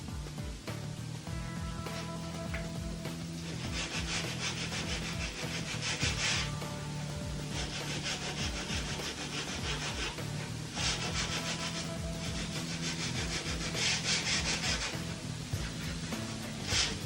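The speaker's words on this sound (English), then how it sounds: "180 grit wet and dry on the rubbing block. This gives us a better surface finish and will flat some of the sanding scratches" Car bodywork being flatted by hand with 180 grit wet and dry paper on a rubbing block, steady continuous scraping strokes in a repeating back-and-forth rhythm, close and fairly loud, with no talk.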